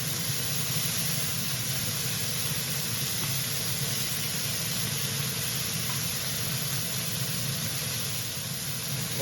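A steady hissing sizzle of butter melting in a hot pan alongside skirt steak, continuous and even throughout with a broad, noisy texture and no talking.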